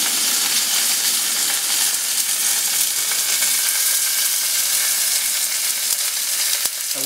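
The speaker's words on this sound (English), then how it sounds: "put our beautiful tuna right into this pan. Oh yeah, hear that sizzle." Tuna steaks pan-seared in a very hot pan sizzle and hiss loudly and continuously, close by, with no talking over them.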